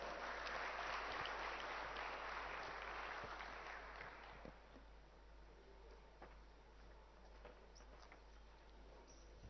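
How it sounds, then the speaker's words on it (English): Applause from a convention audience welcoming an industries minister to the podium at the BioAsia inauguration, a dense clapping swell in the first four seconds that thins to scattered claps and fades. "Can we please welcome him with a warm round of applause?"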